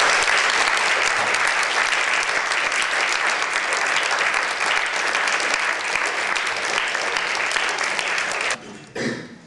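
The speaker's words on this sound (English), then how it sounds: "if we can just give a round of applause for our panelists" Sustained, loud audience applause for panelists at a university public conference, dense and even for about nine seconds before tapering off abruptly.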